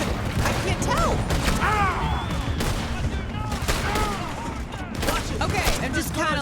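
Steady gunfire from a shooting video game crackles throughout, with repeated shots and louder bursts under ongoing talk from players.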